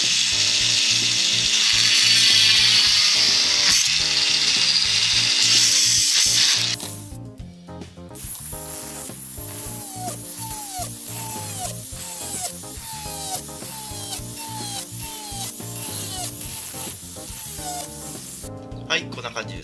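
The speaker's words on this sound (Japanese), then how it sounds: "このリューターで穴を開けていきます。" A rotary tool bores holes in a plastic Mini 4WD MA chassis with a loud, steady high-pitched grinding whine for about six seconds, then cuts off as background music continues.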